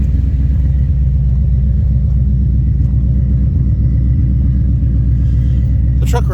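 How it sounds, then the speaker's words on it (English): A 1971 Chevrolet C20 truck engine idles steadily and loud after a cold start, a constant low rumble with an exhaust header pipe leak, ending with a brief sharp noise. "The truck runs all right."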